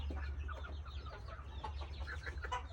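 Burmese chickens and their chicks under a raised house, clucking steadily and close by over a constant low rumble throughout.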